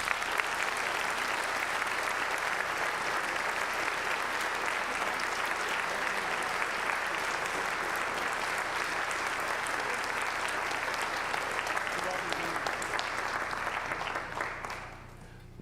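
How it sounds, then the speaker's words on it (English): A concert audience at a school symphonic band and wind ensemble performance gives band directors long, steady applause. The dense clapping holds for about fourteen seconds before quickly tapering off. "Let's give them a round of applause."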